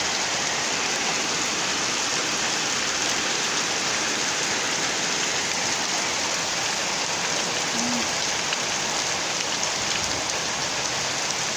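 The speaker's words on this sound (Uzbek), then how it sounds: "Bu tomonda yomg'ir yog'yapti" Heavy rain keeps falling outside in an unbroken, uniform wash of pattering drops, loud and constant from start to finish, with no one speaking.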